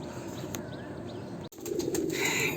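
A flock of Andhra pigeons flies high outdoors, with wing flaps and soft coos at a moderate distance, then a sudden short drop before a louder, denser rush of flapping and bird sound.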